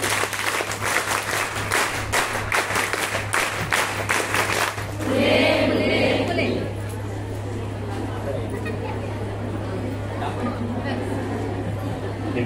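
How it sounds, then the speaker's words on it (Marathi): A hall full of people at a union district convention claps hard for several seconds. The applause then fades into chatter and a voice speaking over a steady hum. "अशा टाळी देऊन द्या।"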